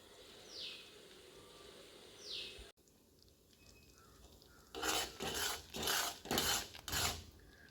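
Cream simmering in a pan while making ghee is stirred with a spoon, giving a run of rhythmic scraping strokes, loud and close, after a quieter stretch of soft background sounds.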